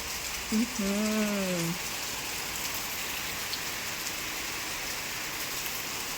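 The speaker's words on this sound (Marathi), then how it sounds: "असा हा पाऊस सारखा चालूच आहे" Steady rain falls in a continuous hiss, with a short voice-like tone briefly rising over it near the start.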